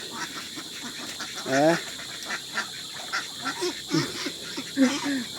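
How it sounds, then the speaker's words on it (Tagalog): Ducks quack in a rainy backyard poultry yard among chickens, with several nearby nasal calls coming in irregular bursts under a person speaking. "Takbo yung bibi."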